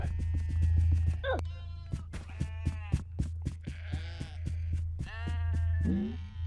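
Several high, wavering bleats from Meep creatures in the video game Oddworld: Munch's Oddysee repeat over a steady low hum and a rhythmic pattering, calling one after another.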